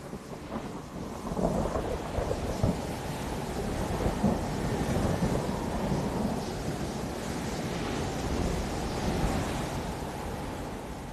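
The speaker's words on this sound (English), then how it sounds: "he and his team could not avoid the violent sandstorms that often sweep across the Gobi" Violent sandstorm sweeping across the Gobi desert: a sustained, loud roar of wind-driven noise with gusting surges, dense and continuous for the whole stretch, with no voices.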